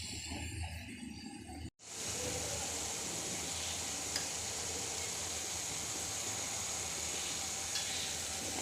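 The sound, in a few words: stir-frying potatoes with spices in a pan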